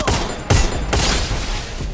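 Gunfire bursts in the Free Fire battle royale game, three sharp, heavy blasts spaced about half a second apart, loud and close over a dense battle din.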